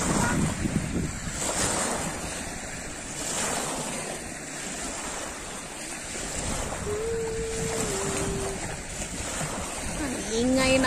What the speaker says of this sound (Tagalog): Ang ingay ng alon,